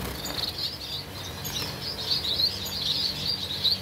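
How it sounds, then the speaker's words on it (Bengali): Cherry finches and star finches in a breeding room or sale counter, giving thin, high chirps that flicker steadily throughout at a moderate distance, with no talk. "দেখুন চেরি ফিঞ্চ আছে, 3টে ফন্ড স্টার রয়েছে"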